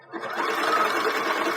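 A sewing machine runs a zigzag stitch to attach lace onto a bra, starting up and then whirring at a steady, busy pace with a rapid mechanical patter, close and alone.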